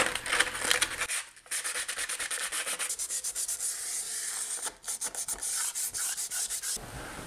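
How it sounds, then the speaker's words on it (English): Sanding a stair tread to prep it for vinyl plank flooring, a steady run of rhythmic rasping strokes up close and loud, with a brief pause after the first second and another near the end. "we've sanded this one top and bottom"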